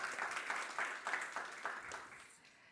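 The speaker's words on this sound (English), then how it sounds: "a round of applause, please" Audience applause after a panel discussion on EU forest-based industries, a short, moderately faint patter of clapping from a modest crowd that tapers off within a few seconds.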